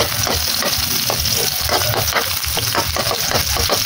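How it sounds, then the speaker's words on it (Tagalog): Onion and garlic sautéing in a pan for chicken noodles, a loud steady sizzle with stirring scrapes throughout, no talk. "Gigisa na natin."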